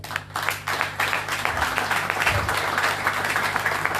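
Audience at a Catholic church event in Cameroon applauding loudly, dense sustained clapping from a crowd, with a few faint voices mixed in.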